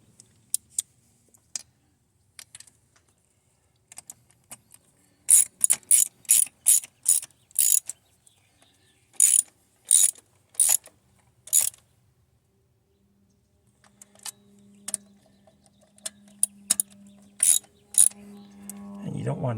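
Carburetor bolts on a 1976 Stingray are tightened with a ratchet, producing bursts of sharp, close clicking strokes separated by pauses, with faint background noise between them.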